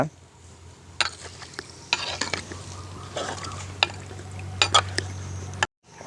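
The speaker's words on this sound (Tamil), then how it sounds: "நாங்கள் இதோட தேங்காய் பால் சேர்த்து அவிய விட போகிறோம்" Coconut milk stirred into a simmering Sri Lankan village-style otti fish curry, with a steady bubbling sizzle under repeated scraping and clinking of a spoon against the pot, loud and close, ending abruptly.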